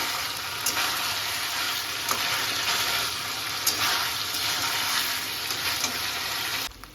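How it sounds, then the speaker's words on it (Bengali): A fish head sautés in a pan for muri ghonto, giving a loud, dense sizzle with stirring scrapes throughout, close and steady until it cuts off near the end, with no talking. "কষিয়ে নিচ্ছি"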